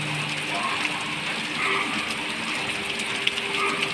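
Steady rain falling without wind in a village with coconut palms, a dense even patter of drops with small clicks, holding constant throughout.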